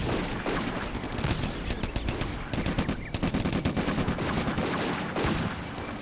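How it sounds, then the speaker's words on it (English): Dense, continuous battle noise in Combat Mission: Afrika Korps, with rapid bursts of gunfire and repeated mortar impacts layered over each other, loud and sustained. "The mortars are keep falling."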